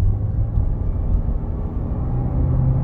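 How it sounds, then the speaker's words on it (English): A car engine pulls at about half throttle while driving, with a steady low rumble and drone and road noise heard from inside the cabin, with no voices. "Okay, I'm gonna give about half throttle."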